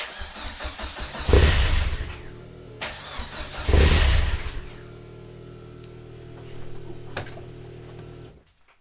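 A Chevrolet Nova engine cranks and fires twice, each start a loud burst that settles into a rough idle, then the idle continues more quietly before cutting off at the end.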